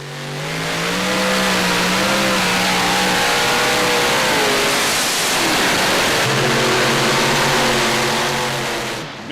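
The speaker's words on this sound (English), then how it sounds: "You could hear the RPMs change drastically as it pulled it down" A modified pulling tractor's powerful engine roars loudly throughout at a tractor pull, its revs climbing and dropping sharply, then settling into a high, straining drone.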